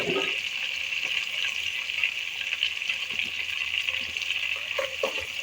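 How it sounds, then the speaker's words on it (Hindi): Garlic ginger paste fries in a pan with a steady, close sizzling hiss that holds for the whole stretch, with a few faint clicks and no talking. "एक टेबल स्पून हम इसमें लहसुन अदरक का पेस्ट शामिल कर लेंगे। और इनको फ्राई करेंगे।"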